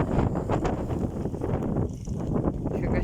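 Strong storm wind gusting across an open field, a loud, dense roar and rumble of wind buffeting the microphone, surging and easing over a few seconds with no pause.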